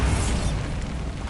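A dense, roaring magical blast from the Bombarda spell in Hogwarts Legacy, a sustained loud rumble of explosive noise with no voices over it.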